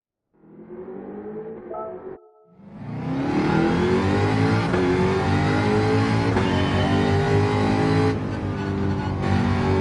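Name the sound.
car engine revving in a racing video game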